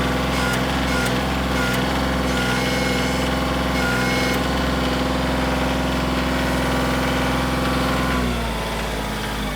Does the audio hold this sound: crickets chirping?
no